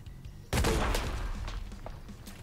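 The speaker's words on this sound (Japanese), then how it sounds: "あこのグレネードはこのぐらい爆発するのに時間かかるんだな" Grenade blasts in the shooter game Arena Breakout, a sudden loud boom followed by a rumbling, crackling tail of debris and scattered smaller pops.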